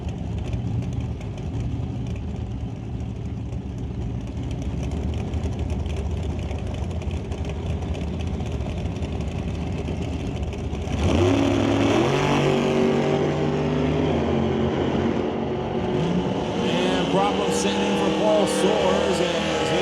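A nitro dragster and a 1995 Pontiac launch side by side at a Super Pro drag race, a steady loud engine drone jumping into a harsher, louder roar with rising revs partway through, heard from the track at close range.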